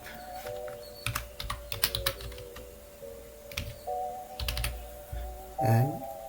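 Keys clatter on a computer keyboard as a project name is typed in Visual Studio, irregular clusters of close, crisp clicks over a faint steady tonal hum.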